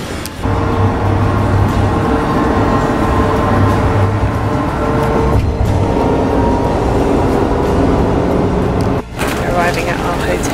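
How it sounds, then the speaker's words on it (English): Steady loud road rumble and engine drone inside a moving shuttle bus heading to a hotel on an Orlando vacation, with no break apart from a brief dip near the end. "Oh, we're on our shuttle going to our hotel."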